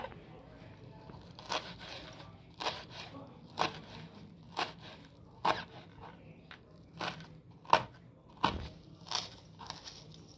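Coriander leaves chopped with a knife on a board, about a dozen crisp separate cuts at a loose, uneven rhythm, close and clear over quiet room noise.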